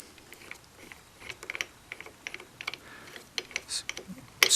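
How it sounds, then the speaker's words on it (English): Small metal clicks and taps as an 80mm bolt is hand-threaded into a motorcycle handlebar riser on a Kawasaki Concours 14 sport tourer, close and fairly quiet, with a louder clatter at the very end. "screw it in a little bit"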